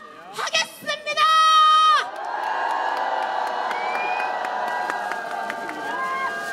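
A crowd of union members at a Korean healthcare workers' strike rally shouts and cheers loudly, then settles into a sustained roar of applause and whoops that carries on steadily.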